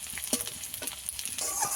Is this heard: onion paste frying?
yes